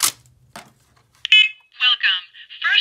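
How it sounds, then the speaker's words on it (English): A First Alert SC7010BVA smoke and carbon monoxide alarm under test gives a loud, piercing beep, then a short chirp. A synthesized voice prompt follows. "Just a fair warning, it's like the loudest alarm ever."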